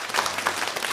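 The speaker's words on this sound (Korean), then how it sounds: "박수 이렇게 환영하시기 바랍니다" A church congregation applauding to welcome visitors during a service, dense steady clapping from many hands filling the second-long moment.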